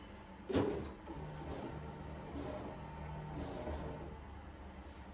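A home embroidery machine runs a trace of the design outline before stitching, a quiet motorized whir with soft mechanical hums and a brief louder clack near the start, steady and close.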